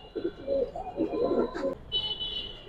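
A male pigeon coos in low, throaty rolling phrases, close and moderately loud, with a faint high tone in the background and a short break near the end.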